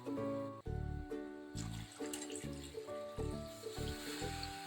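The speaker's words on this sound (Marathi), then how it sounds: "आता यामध्ये पाणी घालते थोडं" Water is poured from a glass into a cooking pan of prawn masala, a brief gushing splash that fades to a light trickle under prominent background music.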